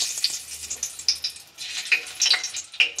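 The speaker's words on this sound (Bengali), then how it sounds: "গরম মশলাগুলো তেলে দিয়ে দেবো।" Whole garam masala spices, including cloves, frying in hot oil with intermittent crackles and sizzling spits over a faint hiss, close and fairly quiet, with no talking.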